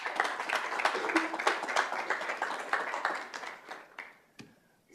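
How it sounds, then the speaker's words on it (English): Applause at a school district governing board meeting for a school principal walking up to speak: brisk clapping from a modest crowd, lively at first, then thinning and fading to a few last claps. "please give Mr. Wallander a round of applause as he comes up"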